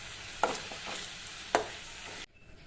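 Manathakkali greens and grated coconut sautéed in a pan, a continuous gentle sizzle with two sharp utensil knocks against the pan and softer stirring scrapes, close up, ending abruptly in near silence.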